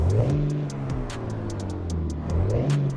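Dodge Ram 3500 heavy-duty dually pickup engine starting up in the iRacing sim game, cranking into a deep, steady rumble with revs swelling at the start and again near the end, close and loud.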